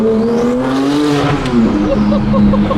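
A car launches and accelerates hard, its engine revving up loud and close with a rising then falling tone as the gears shift, with a brief voice over the engine noise.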